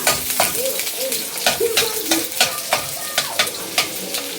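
Onion and garlic fry in cooking oil for a simple Filipino vegetable dish, a steady close sizzle broken by repeated scraping stirs every half second or so.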